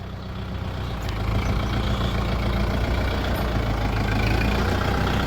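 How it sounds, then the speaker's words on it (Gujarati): A tractor engine running while being driven, a loud, steady low rumble that swells slightly after the first second and holds close and constant. "જો જેનિશભાઈ ટ્રેક્ટર હાંકતા શીખે."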